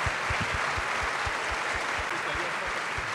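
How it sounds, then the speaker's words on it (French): An audience at the 2015 Liliane Bettencourt Prize ceremony applauds a first prize winner. The clapping is dense and steady, with a regular low thumping pulse running beneath it. "C'est le moment où il faut applaudir"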